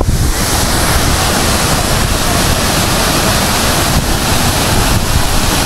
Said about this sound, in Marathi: मी पोहोचलो धनगर धबधबा आहे बघा